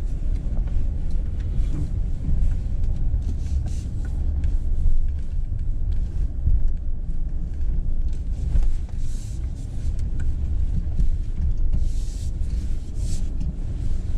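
A 2020 Mercedes-Benz GLC SUV drives off-road through mud near Frankfurt, Germany, heard from inside as a steady, continuous low engine and chassis rumble with no one talking.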